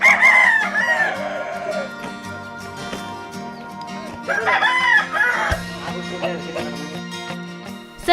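Fighting roosters being readied for bouts crow loudly and close by: two long, drawn-out cock-a-doodle-doos, one after another, with faint background noise between them.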